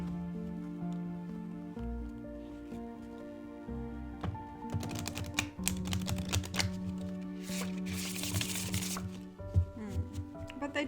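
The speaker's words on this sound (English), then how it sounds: "see how I can shuffle these cards" Fairy tarot cards of thin, flimsy cardstock being shuffled by hand, soft rapid riffling and flicking that builds in the second half, heard faintly under steady background music.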